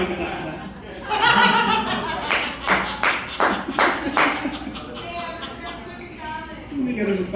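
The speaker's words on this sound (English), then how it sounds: "You don't have to clap for that." Comedy-club audience claps and chuckles in scattered bursts after a joke, with a comedian's voice speaking over and between the applause at moderate volume.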